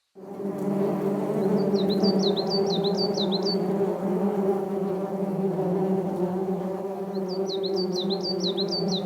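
Wasps buzz at their nest in a tree in a steady, close drone that never lets up, while a bird chirps twice in quick bursts in the background.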